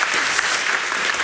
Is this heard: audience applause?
yes